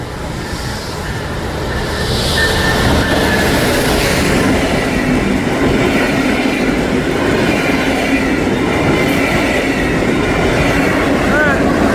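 A Brightline passenger train runs southbound through a Fort Lauderdale grade crossing, a loud, steady rumble of wheels and rail noise that swells after the first couple of seconds and holds close and heavy to the end.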